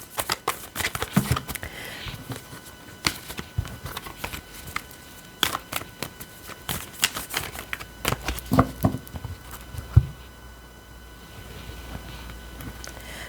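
Oracle cards are shuffled and cut by hand, giving a steady stream of soft, close riffling taps and slaps, with a few sharper knocks on the table and no talk.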